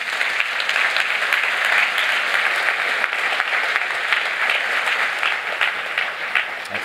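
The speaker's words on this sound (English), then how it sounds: "Please give a round of applause to Mark Shuttleworth" Sustained audience applause at the Ubuntu Summit 2023, a dense, loud crackle of many hands clapping that continues evenly throughout, with no talk over it.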